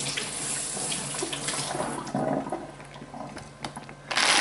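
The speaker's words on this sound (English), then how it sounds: "And wash my pepper." A pepper being washed under a running kitchen tap, a steady close rush of water with splashing changes as it is turned in the stream.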